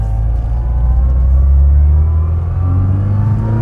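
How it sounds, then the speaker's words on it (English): A 1997 Classic Mini Cooper with a 1275cc A-series engine and its gearbox mounted beneath the engine pulls hard under acceleration: a loud, close engine drone with a rising gear whine sweeping upward throughout, with no talking. "So that's your A-series Mini gear wind"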